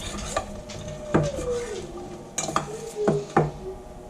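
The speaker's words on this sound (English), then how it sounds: "Mix that all up." Ingredients are mixed in a bowl with a utensil, producing several distinct clinks and scrapes in an irregular rhythm, close and fairly loud with no talking.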